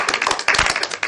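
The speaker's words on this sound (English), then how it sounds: "He deserves a round of applause." Hands clap in a quick uneven burst, close and fairly loud, a short round of applause with several sharp claps over about a second and no voices.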